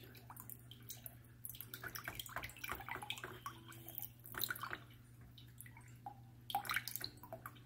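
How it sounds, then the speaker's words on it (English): Water drips and trickles from the drained base of an SD501 ionfaucet filter, a faint, irregular patter of drops with a steady low hum underneath. "we're just draining the bottom of that filter base right now"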